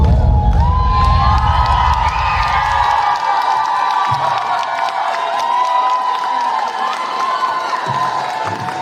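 Concert crowd in Yakutsk cheering and applauding loudly and continuously, a dense wash of voices and clapping with sustained tones running underneath throughout.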